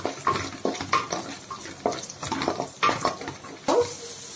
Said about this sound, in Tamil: பீன்ஸ் ஒரு 2 மினிட்ஸ் நல்லா ஃப்ரை ஆகட்டும்.